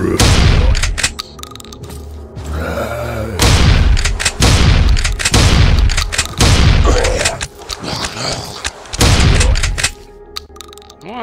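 Loud, booming shotgun blasts from The Malevolent Mansion of Evil, a 2024 PC horror game, fire about five times at a steady pace, each sharp report followed by a short decay and pump-action mechanical clatter.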